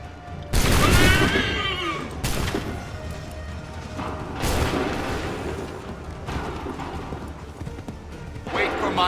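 Volley of gunfire in Assassin's Creed III, several loud sharp bursts spaced a couple of seconds apart with rolling echo between them, over a steady background of horse hooves and battle din.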